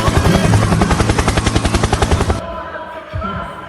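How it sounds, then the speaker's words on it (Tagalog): Rapid, evenly pulsing chop of helicopter rotor blades, loud and close, cutting off abruptly after about two seconds and leaving a faint background. "Helikopter, helikopter."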